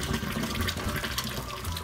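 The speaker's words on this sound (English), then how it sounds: "I want to quickly get the water out of this" Water pours steadily out of a pot in a continuous splashing stream, close by, for a couple of seconds with no talking, draining water from boiled quail eggs.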